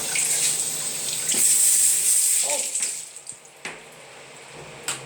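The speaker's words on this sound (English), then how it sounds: "Spray with water." A toilet bidet sprayer hisses out a steady jet of water for about three seconds, then cuts off, leaving a few faint drips and small clicks in a quiet bathroom.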